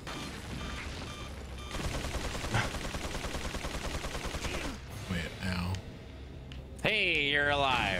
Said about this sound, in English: just shoot my way downtown